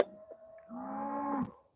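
A cow gives a single low, drawn-out moo that rises and holds before trailing off, heard at moderate distance in quiet surroundings with no talking.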